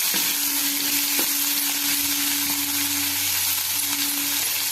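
Capsicum and green chillies frying with onions in a pan give off a steady, loud sizzle, broken by a few sharp crackles and a low stirring scrape.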